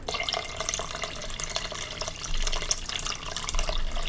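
Water streams from a tap into an Instant Pot pot up to the 10-cup mark, a continuous splashing rush with small drips and clinks, close by and without talk.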